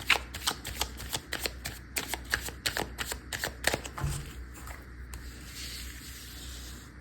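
Tarot cards being shuffled to draw a card, a quick run of crisp riffling bursts close to the microphone, then fading into quiet rustling.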